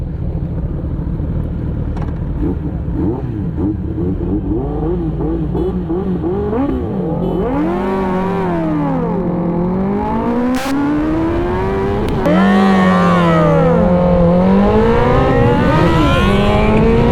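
A Kawasaki Ninja ZX10R and a Hayabusa rev hard at a highway drag race start, loud and near, the engine pitch climbing, dropping and sweeping up again in long surges over a constant roar.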